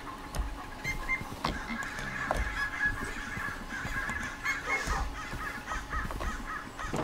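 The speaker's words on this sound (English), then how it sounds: "I got a rooster, two hens, and some chicka babies" Rooster, hens and chicks in the Minecraft modpack Magiculture 2 give off a busy run of clucks and crowing-like calls over steady farmyard ambience, with no talking.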